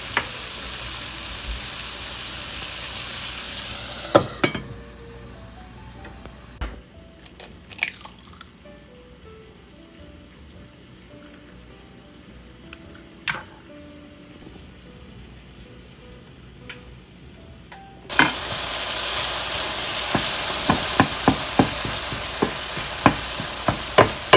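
Tomatoes frying in a pan for a Persian tomato omelet, a bright sizzle that drops away when a lid goes on, leaving a muffled hiss with a few clinks, then returns loudly with quick crackling spatters.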